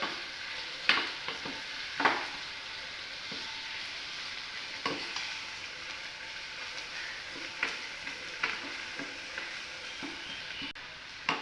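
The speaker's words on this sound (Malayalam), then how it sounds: "ഇനി ഒന്നും കൂടി ഒന്ന് ഇളക്കി കൊടുക്കാം" Home-grown curry leaves stirred in a frying pan, a steady low sizzle broken by occasional sharp scrapes and clinks of the spoon against the pan, faint and fairly close.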